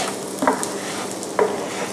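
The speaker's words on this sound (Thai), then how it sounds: "เราจะคลุกเคล้านะครับให้น้ำมันนะครับที่มีอินฟิวส์มีกลิ่นของหอมของ ใบไทม์เนี่ยเคลือบข้าวไว้นะครับ" Rice is stirred in hot thyme-infused oil for saffron pilaf; soft frying sizzle runs throughout while two distinct scraping strokes of a spoon sound close in the pan.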